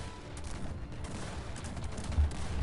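A rapid, muffled burst of overlapping musket shots crackles at a distance, a volley of muskets firing together in the video game Cossacks 3.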